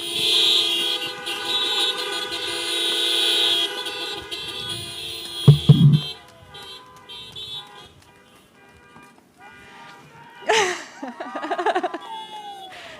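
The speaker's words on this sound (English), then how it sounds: "Let's hear it with honks for Dr. Kimienti." Car horns honk at an outdoor drive-in Match Day 2021 ceremony, many overlapping sustained toots and blares at varying distances, then a lull before a fresh burst of shorter honks.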